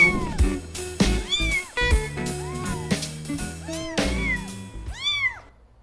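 Cat meowing repeatedly, a string of distinct rising-and-falling meows in quick succession, close and clear, with a loud final meow fading out.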